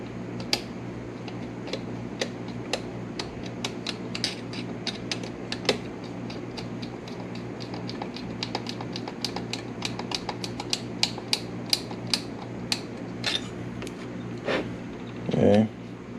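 A straight screwdriver tightens the screw on a DIN rail end stop, giving a steady run of small, close metallic clicks and ticks that ends in a brief louder rattle.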